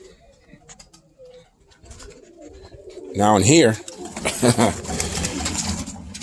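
Pigeons coo in a loft, with one close, loud rolling coo standing out over softer bird sounds and someone talking nearby.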